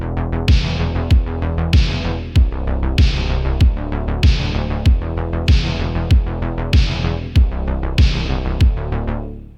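Synthwave snare and percussion groove processed with EQ, a transient shaper, reverb and stereo spread, looping steadily with regular sharp hits over a dense, pulsing electronic bed; loud and continuous, no voices.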